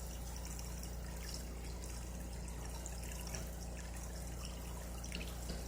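Water pours steadily into the new R1050 rotary evaporator, a continuous close trickle and splash with faint dripping over a constant low mechanical hum.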